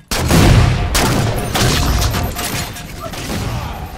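Scattershot weapon fire in Halo 4 lands as loud, close blasts with heavy low boom and crackling tails, several shots fired in quick succession.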